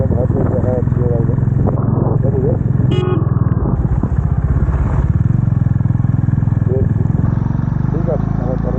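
A motorcycle rides a dangerous hill road at Mirik during the monsoon, its engine droning steadily and loudly throughout with clattering road noise, and a voice is heard at times.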